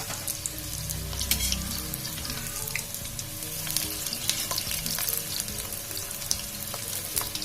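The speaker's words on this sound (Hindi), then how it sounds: "जब मैंने पहले डाला था तो ये फ्राई हो चुका है, इसको निकाल लेते हैं।" Jackfruit and spinach fritters fry in hot oil with a steady, close crackling sizzle that continues throughout, with occasional stirring clinks and no talking.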